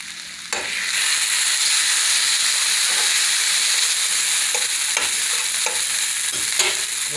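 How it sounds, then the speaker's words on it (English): Ginger being stirred and cooked in a pot for salt-free pumpkin soup, a loud steady sizzle starting suddenly and holding throughout, with occasional light spoon taps and scrapes, no talking. "Ginger, stir that around, let it cook."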